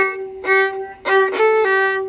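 A viola plays the Tango Mariana introduction passage, ending on a note stopped with the fourth finger: a few bowed notes in a row, close and clear, with sustained tones and short bow changes, no voices.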